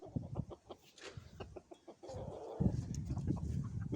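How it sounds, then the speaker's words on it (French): Young roosters and hens of breeds such as Brahma, Silkie, Pekin and Sebright cluck and call in a pen, close and busy, with irregular short clucks and a louder rustling stretch of birds later on. "les gros coqs ensemble et les petits coqs ensemble"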